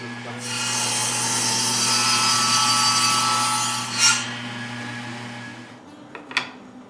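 A saw cuts steadily through a small wooden spring block for a blade guide, the close, even rasping strokes running for several seconds before ending with a few short knocks and scrapes.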